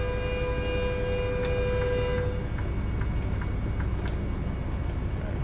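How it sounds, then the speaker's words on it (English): Train in American Truck Simulator rumbles along the tracks as a low, steady drone, with a long sustained horn tone fading out and faint periodic clicks of wheels over rail joints. "train on the tracks."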